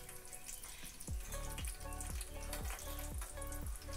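Herbal leaves fry in hot oil for homemade hair oil, bubbling and popping in a steady, repeating rhythm close by, with a watery crackle throughout and no talking.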